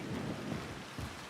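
Rain and rolling thunder in the video game Dying Light 2, a steady wash of rainfall with low rumbling thunder swelling underneath, heard alone without talk.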